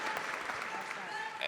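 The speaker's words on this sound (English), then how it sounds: "so I know the applause" An audience applauds during a panel discussion at a UMass event. Dense, fairly faint clapping runs throughout, with a voice talking over it.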